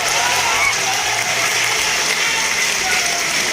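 A crowd at a political rally claps continuously, a dense, loud wash of applause with no pauses.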